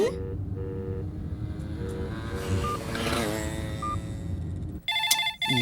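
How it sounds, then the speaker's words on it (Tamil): A phone ringtone trills in short, bright repeating bursts near the end of a Tamil film scene, after several seconds of steady engine-like rumble, close and clear. "உனக்காக நான் வச்ச ரிங் டோன் கேக்குதா"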